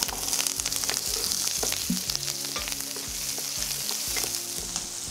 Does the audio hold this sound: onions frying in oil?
yes